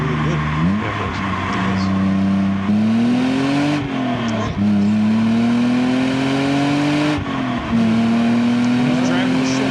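Loud engine of a car driven hard on a race track, climbing and holding high revs with several sharp gear shifts and brief lifts, a close continuous roar throughout.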